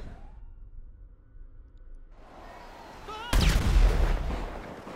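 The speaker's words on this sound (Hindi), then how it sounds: "अरे भाई धमाके चल रहे हैं यहाँ पर" Heavy explosions and gunfire erupt in GTA Online, a loud rumbling burst that swells midway and keeps booming to the end.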